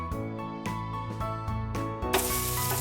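Onion, green chillies and curry leaves hit a hot pan, bursting into a loud, steady sizzle near the end, with tonal background music throughout.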